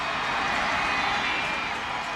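A crowd roars at a women's college soccer championship match between North Carolina and UCLA, a dense sustained wash of cheering that stays loud and even throughout, with no clear voices standing out.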